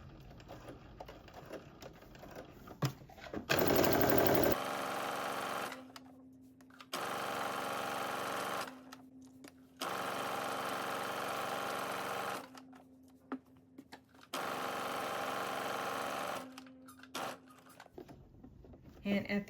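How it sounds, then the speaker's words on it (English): A sewing machine stitches the side seam of a sweatsuit at a half-inch seam allowance, running in several loud sustained bursts separated by short pauses, with a brief zipper-like rasp early on. "you're going to stitch using a 1/2 inch seam allowance all the way to the end of your side seam"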